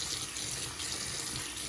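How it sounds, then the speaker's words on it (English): Hot water runs steadily from a bathroom sink faucet, a close, continuous splashing hiss with no voices. "I'm gonna run the hot water"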